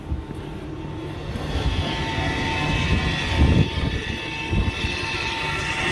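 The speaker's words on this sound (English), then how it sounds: "So you can see the spinner spinning." A salt spreader's spinner running empty on snow equipment, a steady mechanical whir and rumble with a motor drone, continuous and fairly close, with no talk.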